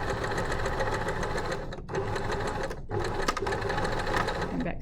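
A sewing machine runs steadily while stitching a dart on a dress bodice, a loud continuous mechanical whir broken by two short pauses, with no talking.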